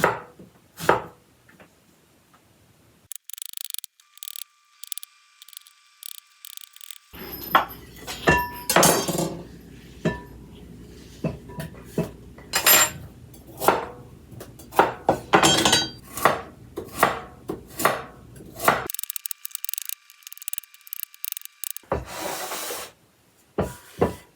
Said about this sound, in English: Now we're gonna julienne our yellow squash.